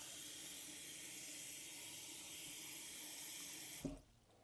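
A kitchen tap runs a steady hissing stream of water into a sink for several seconds, then shuts off with a soft clunk.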